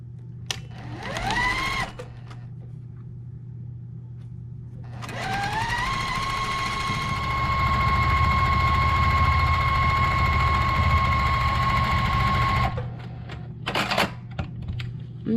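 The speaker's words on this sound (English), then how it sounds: "we'll sew that on as well" A domestic sewing machine stitches quilt wing pieces sewn right sides together, with brief whirs before a long steady motor hum at constant pitch, close and loud, then short stop-start bursts as the seam finishes.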